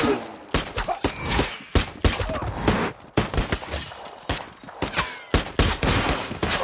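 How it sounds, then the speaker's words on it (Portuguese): Dense gunfire from a Sergio Leone-style shootout in the film The Book of Eli, loud overlapping shots and bursts in rapid irregular succession, close and continuous throughout. "E começa um grande tiroteio à lá Sérgio Leone, onde o Eli dá cabo de quase todo mundo."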